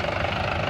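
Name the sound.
Mahindra 585 DI tractor engine running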